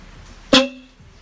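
One short, loud blast from an aftermarket high-volume car horn fitted to a Mitsubishi Adventure, a sharp bright honk that fades within a fraction of a second over quiet background.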